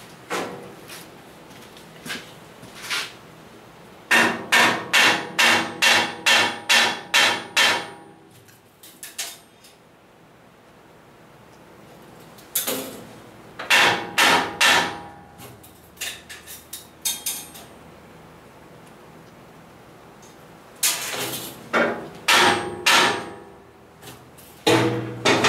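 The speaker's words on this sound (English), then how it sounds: "And my hammer." Hammer blows ring on steel during fabrication of a large loader bucket, coming in loud rapid bursts of clanging strikes separated by quiet pauses.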